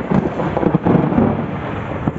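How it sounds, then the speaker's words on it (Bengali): Thunder rolls in a low, continuous rumble through light night rain, fairly loud and close, with a few sharper swells and no talking. "আর হচ্ছে আকাশ ডাকছে, তোমরা হয়তো শুনতে পাচ্ছ।"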